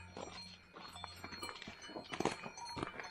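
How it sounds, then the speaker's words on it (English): Cows on an alpine pasture in the Karwendel range of Austria, their bells clinking and clanking irregularly, faint and somewhat distant, with soft shuffling and no voices. "You can hear the cowbells already."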